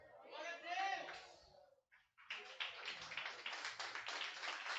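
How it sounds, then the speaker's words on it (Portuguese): A church congregation at a tenth-anniversary service bursts into dense, vigorous applause after a few seconds of talk, the clapping continuing loud and unbroken to the end. "Se é para aplaudir Jesus, aplaude com força."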